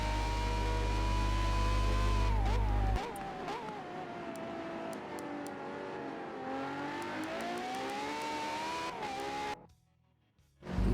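A Koenigsegg hypercar in a racing sim at COTA at night, engine note holding a steady high drone, wavering as it brakes and picks up again, before cutting out briefly near the end.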